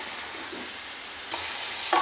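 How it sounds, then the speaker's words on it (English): Sliced onions fry in Australian olive oil in a pan, a steady close sizzle with occasional stirring scrapes and a brief clink near the end, no talk. "I'll just cook these onions down till they're nice and brown and nearly caramelised."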